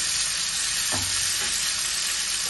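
Prawns fry in hot oil in a pan for chingri malaikari, a loud, dense, continuous sizzle with one brief stir or scrape, no voices.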